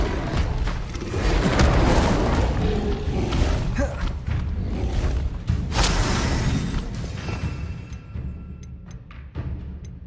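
An Incendio fire spell goes off in the game Hogwarts Legacy with a loud, sustained roaring blast and crackling burst, thick rumbling boom, fading into scattered effects and a quieter tail.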